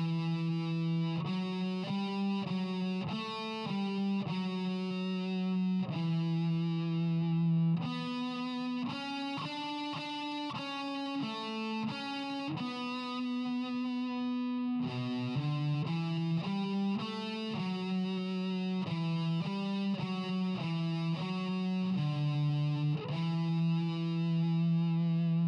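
A theme melody played alone on a distorted electric guitar with effects, steady sustained notes in a continuous phrase, loud and close throughout.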